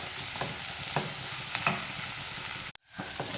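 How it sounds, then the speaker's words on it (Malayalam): Sliced onions sauté in a pan toward light golden for a Kerala-style egg curry, a steady close frying hiss with soft stirring taps, cutting off abruptly near the end; no voices. "ഈ സവോള ഒരു ലൈറ്റ് ഗോൾഡൻ ഷെയ്ഡ് ആവുന്ന വരെ നന്നായിട്ട് തന്നെ വഴച്ചെടുക്കാം"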